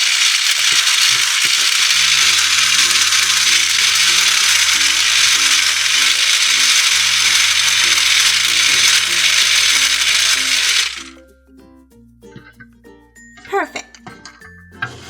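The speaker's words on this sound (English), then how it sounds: "Now let's get our mixer. Let's mix it up." A toy mixer whirs loudly and steadily at cookie dough for a microwave cookie recipe, then cuts off, leaving light clinks and a clicking ratchet-like toy sound; a soft tone pattern sits underneath.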